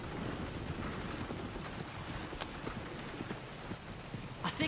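Horse hooves clip-clop in Red Dead Redemption 2, a steady run of soft hoofbeats under a broad rumbling ambience.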